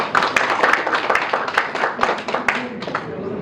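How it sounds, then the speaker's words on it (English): An audience at a technology talk applauds with dense, steady clapping that holds for a few seconds and fades slightly toward the end. "Can we have a louder applause, please?"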